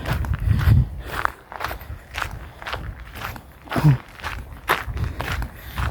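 Footsteps of a single person walking alone along a seaside path in Croatia, a steady sequence of soft, close steps heard with no talk over them.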